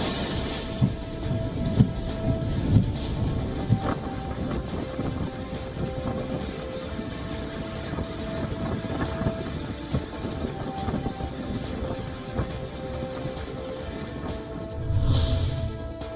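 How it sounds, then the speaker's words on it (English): Heavy rain pours steadily in a storm with high winds, a dense continuous hiss with occasional louder gusts and spatters throughout. "It forecast winds of up to 70 miles per hour and heavy rain."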